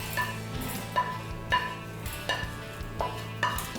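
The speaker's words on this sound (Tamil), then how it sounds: "பருப்பெல்லாம் வறுத்து எடுத்துக்கிட்டோம்" Dry lentils rustle and scrape in a pan as they are dry-roasted and stirred in a steady rhythm, with soft periodic clinks of a spoon.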